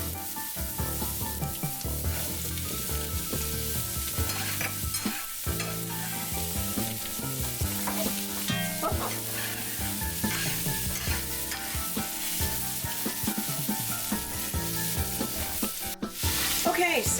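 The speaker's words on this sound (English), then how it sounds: "Okay, so we've got our trifecta, our carrots, onions, and celery. We are going to saute this for about 10 minutes." Carrots, onions and celery sauté in a pan, producing a continuous sizzle with busy stirring and scraping that stays loud and even throughout, with no voices.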